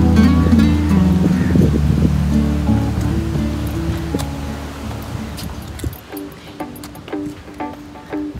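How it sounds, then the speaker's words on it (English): Water gushes steadily over rocks at Kundmala river near Pune as a broad, continuous rush. Background music plays over it and fades out partway through. "listening to the gushing water sound through the rocks"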